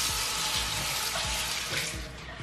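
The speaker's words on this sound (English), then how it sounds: "I wet my toothbrush before" A bathroom faucet runs water over a toothbrush during a braces cleaning routine, a steady near splashing stream with a few soft knocks beneath it.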